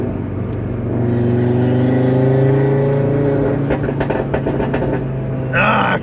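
A Stage 2 tuned Audi's engine revs and drones loudly, then a rapid series of sharp exhaust pops and crackles bursts out near the end.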